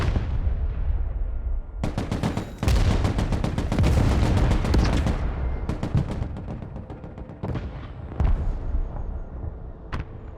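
Gunfire rattles in the video game Broken Arrow, bursts of automatic fire and heavy single shots in a dense, loud volley that thins into scattered shots toward the end.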